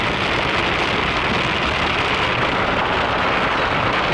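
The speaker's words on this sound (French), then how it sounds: "il pleut tout le temps" Steady heavy rain drums on a car while driving toward Verdun, a loud, unbroken hiss over a low road rumble, with no voices.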